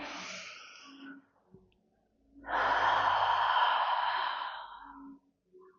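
Heavy breathing during a Pilates ab exercise: a breathy exhale, a brief pause, then a long loud forceful sigh, close and alone.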